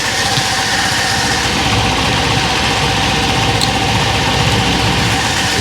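A cheap Chinese moped engine idles steadily and fairly loud, holding an even, continuous drone with a buzzy running note and no speech throughout.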